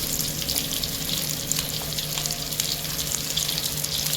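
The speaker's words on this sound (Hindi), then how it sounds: "अनियन को भी थोड़ा सा सॉटे करते हैं, बहुत ज़्यादा नहीं" Garlic and chopped onion sauté over a medium flame in a pan, giving a steady close sizzle with a faint hum underneath.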